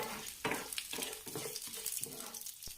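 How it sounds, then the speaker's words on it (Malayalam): Dried red chillies frying in a pan, giving a close, steady sizzle with soft stirring scrapes over about three seconds and no talking. "ഇനി നന്നായിട്ട് ഇതൊന്ന് വറുത്തെടുക്കാം"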